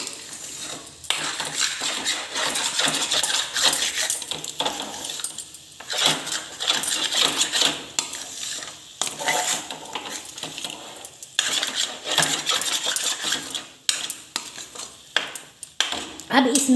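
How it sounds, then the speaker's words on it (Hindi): Black pepper being stirred with a spoon into a ginger candy mixture roasting in a pan: close, busy scraping and clinking of metal on the pan over a soft sizzle, in bursts with brief pauses. "इसको भी इसके साथ हम मिक्स करके भूनने देंगे।"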